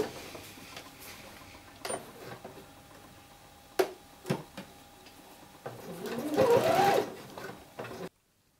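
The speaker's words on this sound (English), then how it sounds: "Sew this with a 1 cm seam allowance." A sewing machine stitches a seam joining a bomber jacket's cuff and lining, with short clicks and bumps as fabric is handled before a louder continuous run of stitching near the end, close by with no talking.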